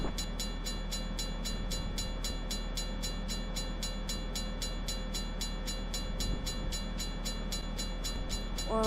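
A locomotive hauling passenger carriages rolls past a railway crossing, a continuous loud rumble with a rapid, even clicking rhythm of wheels over rail joints, steady throughout with no voices.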